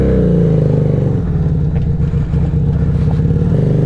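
Scrambler motorcycle engine running while riding, a loud, close, steady low rumble with slight rises in revs and no talking.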